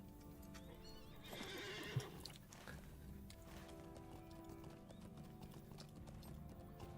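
Horse hooves clip-clop steadily while riding a mount in the video game LOTRO, with a whinny near the start, fairly faint under game ambience.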